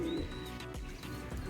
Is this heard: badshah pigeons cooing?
yes